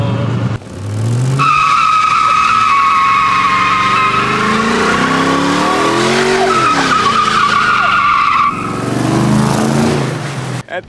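A car launches hard at full throttle, tires skidding and squealing loudly for several seconds over a roaring, rising engine note, close by and dominating everything.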